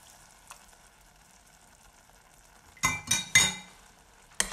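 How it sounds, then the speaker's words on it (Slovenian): Asparagus risotto simmers gently in a pot as broth is added, a soft low sizzle followed by a few clinking, scraping stirs of a spoon against the pan near the end. "lahko začnemo z dodajanjem jušne osnove, zajemalko po zajemalko, med nenehnim mešanjem kuhamo približno 15 minut"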